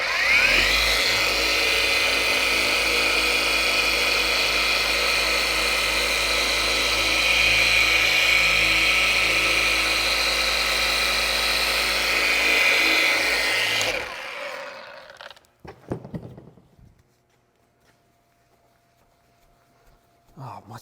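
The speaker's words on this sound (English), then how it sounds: "keep that polisher going" A rotary polisher buffs a badly weathered car hood during paint correction, a loud steady whir running for about fourteen seconds before cutting off, followed by quiet with a few faint knocks.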